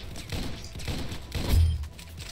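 Revolver fire in a first-person shooter game, several loud booming shots at a slow, roughly even pace, the last one heaviest and deepest, with no talk over them.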